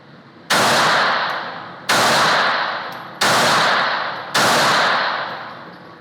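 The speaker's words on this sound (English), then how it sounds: "So let's see how well I can do just plain old shooting with one hand." Four loud one-handed shots from a Smith & Wesson Bodyguard 380 pocket pistol at 15 feet, each a sharp close crack with a decaying ring, spaced roughly a second and a half apart.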